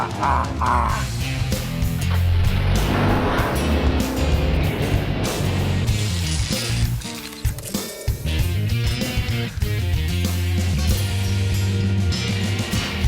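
A supercharged 2010 Chevrolet Camaro engine, about 400 horsepower, roars and revs hard as it speeds along near 100 mph, loud and continuous with shifting pitch and wind rush.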